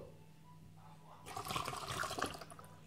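Water mixed with vinegar and lemon splashes and gurgles as a quarter cup is poured, starting after a quiet moment and running steadily for over a second; close and moderately soft.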